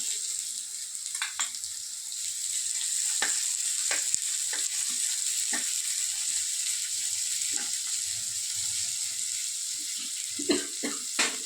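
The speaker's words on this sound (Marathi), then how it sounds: "आता मिरच्या आपल्या तळून झाल्यात" Cumin seeds and green chillies fry in hot oil for kanda poha, a constant bright sizzle with occasional spoon scrapes and light pops, close up and without voices.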